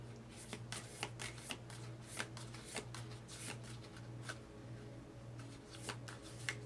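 Oversized cards are shuffled again and again in quick riffling bursts, fairly faint and close, with a steady low hum running underneath.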